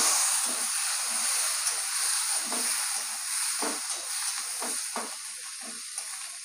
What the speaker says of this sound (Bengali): এবার আমি পেঁপেগুলো তেলে ভেজে নেবো।